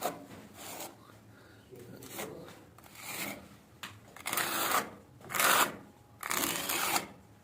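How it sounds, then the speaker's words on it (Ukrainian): A spatula spreads putty filler across a wall lintel during apartment renovation, making repeated close scraping strokes with soft rasping texture in rhythmic bursts. "І отак зашпакльовуємо всю перемичку."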